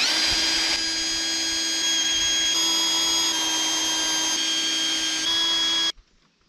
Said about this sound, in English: I'm pretty sure I'm not drilling anymore. It's like I've hit something solid and I just can't continue.